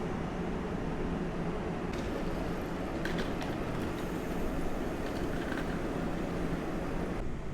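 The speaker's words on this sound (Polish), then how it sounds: "Na tor pierwszy przy peronie czwartym wjeżdża pociąg lotniskowy kolei mazowiecki, kierunek Modlin" Koleje Mazowieckie airport train bound for Modlin rolling into a platform at Warszawa Wschodnia station, a steady continuous rumble of wheels and motors with faint squeals, no talk.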